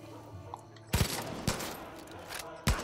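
Gunfire in the video game Far Cry 5: after a quiet stretch, several sharp close shots crack out, two in quick succession, another half a second later and one more near the end, with faint room tone between them.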